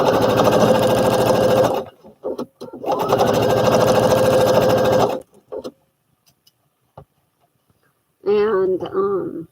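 A sewing machine runs close and loud in two bursts of several seconds each, stitching a garment from Butterick pattern B5572, with brief pauses and faint clicks between them and a voice talking at the end.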